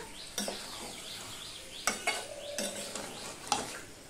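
Chicken pieces coated in spices are stirred in a pan over a gas flame, with a steady sizzle under several sharp scraping strokes of a metal spatula against the pan.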